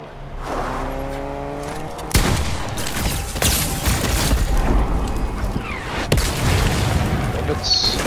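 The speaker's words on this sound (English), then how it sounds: "Rockets." Rocket blasts and gunfire in a Fortnite match, heavy booms landing at intervals over a constant dense roar of in-game action, loud and close.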